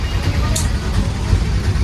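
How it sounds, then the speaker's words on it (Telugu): Busy road traffic passes a market, a steady, dense rumble of vehicles that stays loud and unbroken with no clear single event. "traffic traffic traffic"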